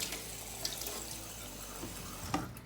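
Water runs steadily from a tap for washing, a continuous close splash into a sink that stays even for the whole stretch, with no one talking.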